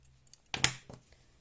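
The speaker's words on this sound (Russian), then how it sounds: "И теперь я обрезаю ниточку" Scissors snip through a crochet thread during amigurumi work, a single quiet close snip with a brief follow-up click in an otherwise hushed room.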